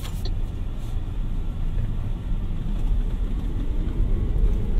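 A 2024 MG Marvel R Alpha electric SUV launches hard from inside the cabin: a steady low rumble of road and drivetrain noise that swells slightly as it accelerates, with no engine note and no talking.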